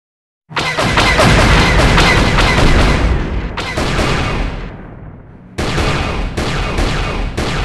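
Rapid, loud gun turret blasts against Sith fighters in Star Wars: Knights of the Old Republic, dense repeated volleys with a short lull in the middle before firing resumes close and continuous.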